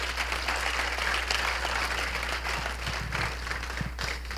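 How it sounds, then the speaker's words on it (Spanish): Congregation applauding in a church, a steady soft wash of clapping at moderate distance with a low hum underneath, continuing without pause. "Démosle un aplauso nuevamente al Señor."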